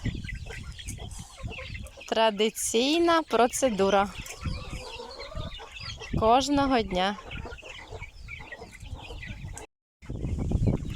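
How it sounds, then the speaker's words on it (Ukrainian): Hens cluck and cackle in bursts near the listener, with a person speaking briefly over the farmyard noise. "Підгодовування курчат."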